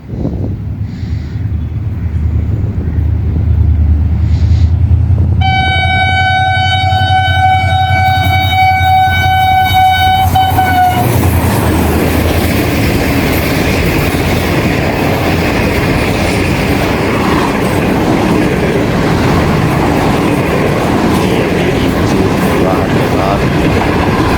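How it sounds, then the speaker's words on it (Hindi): A passing train hauled by GMU30 locomotive 8220 sounds a long, loud horn blast, followed by a heavy, continuous rumble and rattle of wagons rolling close by. "गुजरता हुआ GMU 30 8220।"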